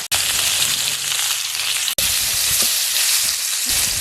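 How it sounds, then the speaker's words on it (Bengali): Fish heads fry in hot mustard oil in a pan, giving a loud, steady, close sizzle with crackling spatter throughout, briefly cut off twice. "তেল গরম হয়ে গেছে, এবার মাছের মাথা ভেজে নিচ্ছি।"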